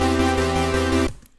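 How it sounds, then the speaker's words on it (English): A held synth chord is run through the FL Studio chorus 2 effect, sounding rich and wavering before stopping suddenly into quiet. "chorus 2, which sounds like this"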